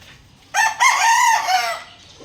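A single rooster crows once, loud and close, a long drawn-out call over a quiet background.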